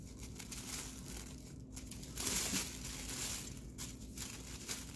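A thin plastic grocery bag crinkles and rustles as it is cut diagonally into a continuous strip with scissors, soft irregular crackles up close with no talking.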